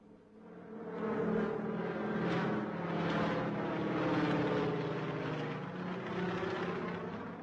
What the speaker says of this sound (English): they were able to demonstrate to the eminent African visitors take-off and perfect low-flying exercises